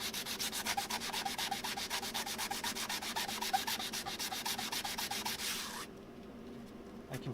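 A sanding block scrubs over a wooden surface in fast, even back-and-forth strokes for several seconds, close and continuous, then stops, leaving only quiet room noise behind.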